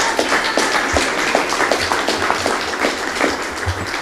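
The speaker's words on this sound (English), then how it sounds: "So give them a big round of applause and support them." Crowd at a rec center dedication gives the staff a round of applause, an even spread of many hands clapping at moderate loudness, sustained without a break.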